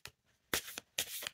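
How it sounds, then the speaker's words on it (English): Tarot cards are shuffled close up in three quick riffling bursts, each a soft papery flutter lasting a fraction of a second, with brief quiet gaps between them. "Let's just do a fresh shuffle for"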